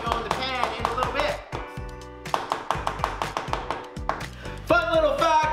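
A knife taps quickly and repeatedly on a cutting board while chopping cilantro, a steady series of sharp chops under a person talking over them.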